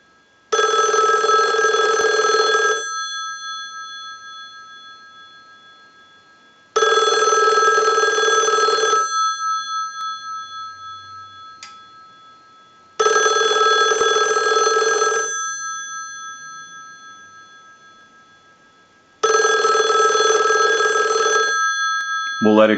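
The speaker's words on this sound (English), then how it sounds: "send a ring cycle like you were getting a call" An ITT 2500 desk telephone's bell rings in four long bursts during a simulated ring cycle, each about two seconds, separated by quiet pauses with a lingering ringing decay.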